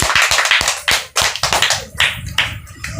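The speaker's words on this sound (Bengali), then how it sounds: "সবাই একটা জোরে করতালি।" Audience applause at a Rabindra Jayanti celebration evening of dance, song and recitation: a burst of many hands clapping, irregular and fairly close, swelling and thinning over a few seconds with no talk.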